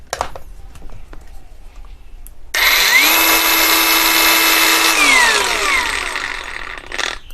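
A TEH LG125N 4-inch cordless brushless angle grinder whirs up to a high steady whine, runs for a few seconds, then winds down, with quieter background noise before and after.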